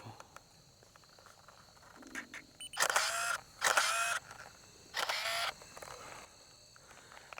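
Camera shutter clicks while shots are taken with a single-body, single-lens film camera: three loud, sharp shutter bursts in a row, with fainter handling clicks before them, and no talking.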